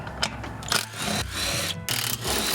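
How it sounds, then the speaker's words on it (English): An impact gun spins 13mm bolts out of the inner fender liner on an International 4300 truck, heard as several loud, close rattling bursts separated by short pauses. "we're just going to go ahead and take our little impact gun"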